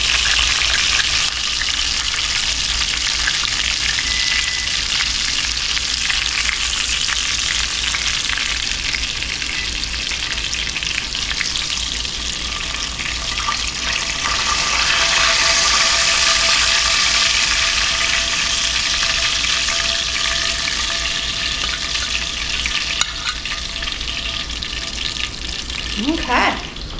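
Chicken frying in a pan of hot grease for old-fashioned Southern fried chicken gives a loud, continuous crackling sizzle that holds steady throughout, with a few brief clinks near the end.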